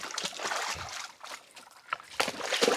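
Water from a small stream runs beside an arecanut and rubber plantation in Karnataka, a close, bright trickling and splashing with uneven surges, faint talk now and then.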